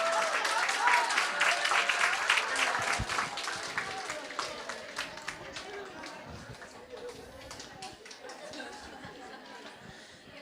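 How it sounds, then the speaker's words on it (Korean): Church congregation clapping during a Wednesday service, a scattered round of applause that is loudest at first and gradually thins out, with murmuring voices mixed in. "우리 박수 한번 쳐줘"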